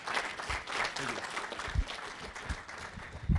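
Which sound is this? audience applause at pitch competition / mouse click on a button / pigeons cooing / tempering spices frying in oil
audience applause at pitch competition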